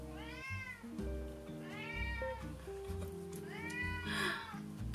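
A cat meowing to have a door opened, giving three drawn-out, rising-and-falling meows in slow succession, close and clear, with soft music-like tones underneath.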